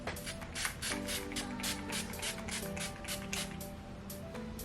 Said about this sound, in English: I need more of the Urban Decay All Nighter Setting Spray.